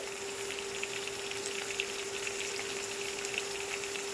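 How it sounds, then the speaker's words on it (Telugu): Onions frying in a pan for a prawn and raw mango curry give a steady, fine sizzle with a faint crackle, continuous and moderately quiet with no talking. "ఉల్లిపాయ అయితే బాగా వేగిపోవాలండి"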